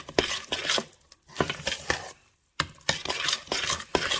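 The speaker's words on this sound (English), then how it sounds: "And then get that stirred up." Creamy, cheesy polenta stirred in a pot, with scraping spoon strokes and soft wet patter in quick uneven bursts, close and moderately loud, with a short pause partway through.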